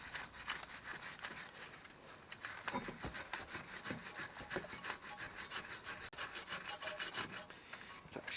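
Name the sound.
scrubbing crud off a car brake caliper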